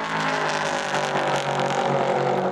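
Race cars roar through the Porsche Curves at Le Mans in 2018, a dense, loud, continuous engine howl that holds steady with slight surges, close by and with no talk over it.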